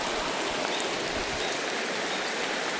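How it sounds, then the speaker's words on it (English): Steady rain falls at a riverside campsite, a dense continuous hiss that stays even and fairly loud throughout with no voices. "It's raining."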